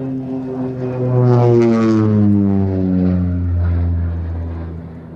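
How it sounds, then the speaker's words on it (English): An OV-10 Bronco turboprop making a strafing pass at an air show: a loud propeller drone with strong harmonic whine that swells as it nears, then falls in pitch as it passes. "Another strafing pass there."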